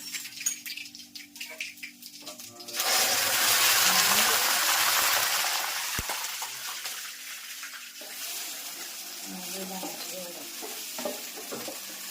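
Mustard seeds and cumin hit hot oil for a bitter gourd curry tempering, bursting into a loud, dense sizzle that holds for several seconds and then eases to a softer crackle, with faint clatter and voice before it.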